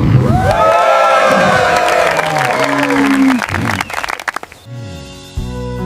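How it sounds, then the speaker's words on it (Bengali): Cartoon-style crowd applause and cheering stand in for forest animals clapping in a children's story. A lively burst of clapping and whoops runs for about four seconds before a short musical sting. "সব জন্তু হাততালি দিল।"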